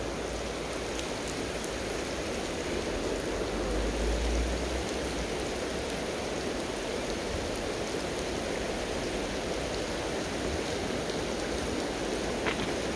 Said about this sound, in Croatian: Pogledajte, kiša je sad nevjerojatno.